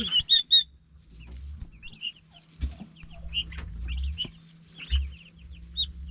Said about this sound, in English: These are the turkeys that I hatched out.